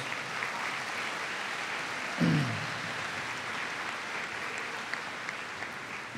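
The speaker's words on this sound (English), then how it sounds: "Give them a round of applause, please." Steady applause from a graduation ceremony audience fills the hall throughout, a dense, even wash of many hands clapping, with one brief louder thump partway through.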